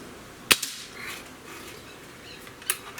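A Cometa 94 breakbarrel air rifle fires once with a sharp, close crack, followed about two seconds later by a fainter short tick, over quiet background with no talking.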